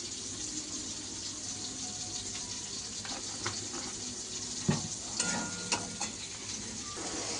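Tomatoes salted in a pan for tomato chutney sizzle and fry steadily, with a spoon stirring and scraping now and then against the pan and soft kitchen clatter.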